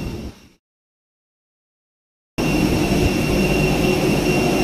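Jet engines drone loudly and evenly inside an airliner cabin. A brief sound fades into a stretch of silence, then the steady roar resumes with a thin high whine over it.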